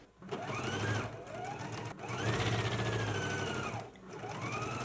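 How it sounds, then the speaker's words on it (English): A sewing machine stitches a jacket side panel to the front lining in three bursts of fast, whirring needle runs, each speeding up and easing off, heard close with short pauses between. "Let's go ahead to the machine now and stitch the side panel to our front lining."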